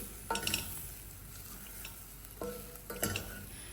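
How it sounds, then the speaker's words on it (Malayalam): A teaspoon of chili powder stirred into a frying jackfruit curry mixture in a pan, with a soft sizzle throughout and two short bursts of spoon scraping against the pan, heard alone. "ഇനി ഇതിലേക്ക് ഒരു ടീസ്പൂൺ മുളക് പൊടിയും കൂടി ചേർത്ത് നന്നായിട്ട് മിക്സ് ചെയ്തെടുക്കാം"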